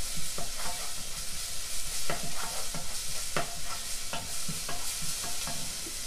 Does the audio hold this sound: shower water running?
no